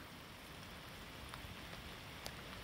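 Light rain falls steadily outdoors at a logging site where a knuckleboom log loader is under repair, a faint, even hiss of drops with a few brighter taps, no voices.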